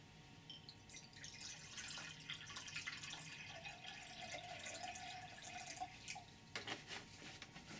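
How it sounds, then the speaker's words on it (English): Distilled water poured into a glass beaker, a steady liquid trickle and splash with faint dripping that stays even and close throughout, with no voices. "We are adding distilled water to a beaker glass."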